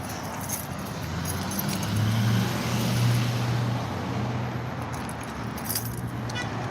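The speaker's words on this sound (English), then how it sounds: "Men in their big trucks." Big trucks and other traffic roll past on a road close by, a steady low rumble that swells and fades, with a faint jingle like keys carried by someone walking.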